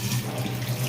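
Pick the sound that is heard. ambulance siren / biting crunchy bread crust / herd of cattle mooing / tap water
tap water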